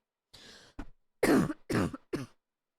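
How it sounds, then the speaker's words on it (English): A person coughs in a short fit, several harsh bursts in quick succession, close and fairly loud, with a throat-clearing quality and no talking. "And I end up going into a coughing fit sometimes."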